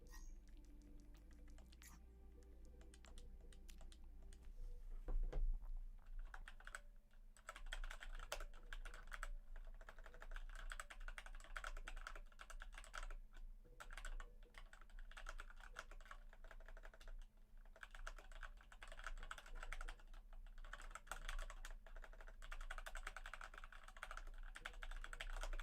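Keyboard typing during an Overwatch 2 match, rough-travel keys clattering in steady bursts for nearly the whole stretch, close and fairly loud over a low background hum.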